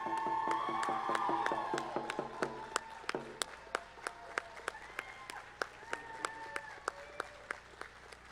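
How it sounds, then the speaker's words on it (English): Applause from the audience at a 2017 Indian Education Program graduation ceremony, honoring the graduating class: steady crowd clapping that builds, then thins to scattered individual claps near the end. "Let's give them a round of applause."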